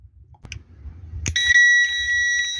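A single steady electronic beep from a multimeter continuity test, as the two probes touch, starts abruptly after a click and holds for over a second, close and fairly loud.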